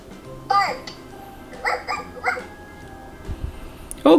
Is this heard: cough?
no